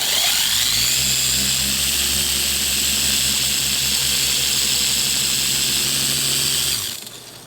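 A dual action random orbital polisher with a fiber pad and compound runs loud and steady on car paint at high speed, a continuous whirring drone that holds for about six seconds before cutting off.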